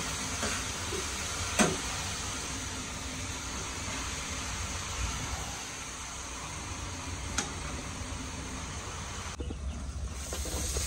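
Steady rain hisses outside a village house, an even, unbroken wash of sound with a couple of faint sharp knocks close by and no voices.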